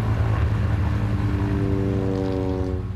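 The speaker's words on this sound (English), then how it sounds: "The planes circle over the savannah." Propeller aircraft circling over the savannah for an elephant census, a loud continuous droning engine hum overhead that holds steady with a slowly shifting pitch.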